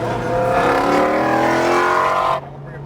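A race car roars past at speed on a speedway track, its loud engine note rising and sweeping by up close before cutting off sharply into a quieter drone.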